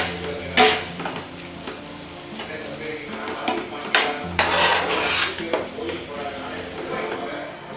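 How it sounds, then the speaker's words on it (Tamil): Onions and spices with turmeric sizzling and frying in a pan for an egg masala, with a spoon scraping and stirring in repeated strokes and occasional clinks of metal against the pan. "கொஞ்சமாக மஞ்சத்தூளும் சேர்த்து நல்லா வதக்கி விட்டுக்கிறேன். இது ஒரு 1 மினிட் நல்லா ஃப்ரை ஆகுது."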